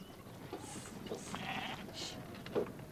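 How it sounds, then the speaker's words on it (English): Sheep in a flock bleat several times over a quiet farm background, a few calls overlapping at moderate distance, with no talk. "There's a sheep in there."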